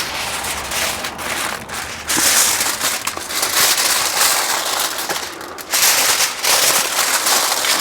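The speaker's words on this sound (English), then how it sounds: "So we very carefully handle this now, so we can get another layer of foil on it." Smoked pulled pork from a Pro Q smoker being wrapped in another layer of aluminium foil, with loud, close crinkling and crumpling in bursts, briefly easing and then resuming, no talking.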